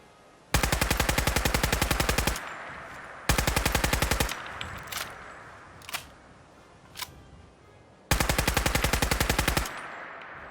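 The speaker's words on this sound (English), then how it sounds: "a beautiful weapon like this wouldn't be complete without some awesome custom animations" World War 2 submachine gun firing in Fallout 4, three sharp full-auto bursts of rapid evenly spaced shots, each about two seconds long, with mechanical reload clicks and clacks in the pauses between them, no talking.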